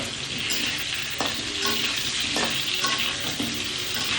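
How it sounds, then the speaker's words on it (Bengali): Potatoes with salt and turmeric frying in a kadai over lowered gas, a continuous sizzle broken by periodic spatula stirring knocks and scrapes, close and moderately loud without talk. "এবার আমি লাল করে এটাকে ভেজে নেব।"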